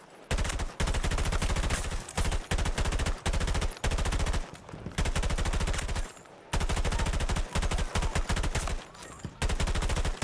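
An AM40 assault rifle fires on a firing range in Battlefield 2042, loud, close, fast automatic bursts of varying length broken by brief gaps.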